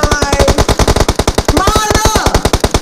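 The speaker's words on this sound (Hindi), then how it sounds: "पीछे से भी फायर हो रही है।" Rapid automatic gunfire in a shooting video game, loud and close, a steady rattling stream of shots filling about three seconds with little pause.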